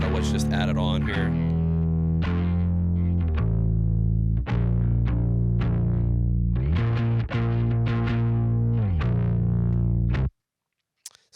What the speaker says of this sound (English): So you can hear an octave pedal, which just added on here.